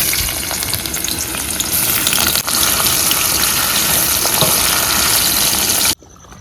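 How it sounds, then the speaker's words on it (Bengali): Potatoes and prawns fry in hot oil in a wok, a loud, steady, close sizzle and hiss that runs nearly unbroken for about six seconds, dips briefly once, then cuts off to quiet. "এবার কড়াইটা বসিয়ে নিয়ে আলু আর চিংড়ি মাছটা ভেজে নেবো"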